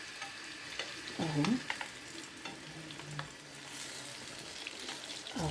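Crispy chicken pieces fry in hot oil with a steady sizzle, broken by stirring and turning clatter near the start. A brief word is spoken partway through.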